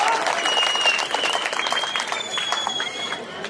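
A crowd claps steadily at an Indian political rally, loud continuous applause with a voice speaking over it.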